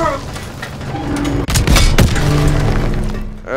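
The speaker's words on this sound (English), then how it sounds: "Just destroying the building ahead of time before you get too close. Panzer strike group!" Panzer strike explosions demolish a building in the World War II shooter Call of Duty: WWII, heavy booming blasts and crumbling debris rolling through a dense, loud mix with a sharp burst near the middle.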